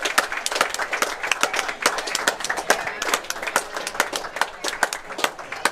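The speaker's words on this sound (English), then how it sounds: "This crowd showing their appreciation for the effort from all of these players." A small crowd applauds after a men's doubles pickleball match, with distinct, uneven claps sounding near and sparse rather than a dense roar, continuing for several seconds without speech.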